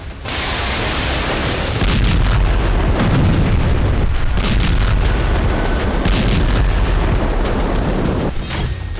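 Artillery bombardment in war news footage, loud heavy booms and bursts of gunfire rolling one after another over a continuous rumbling din, with no speech.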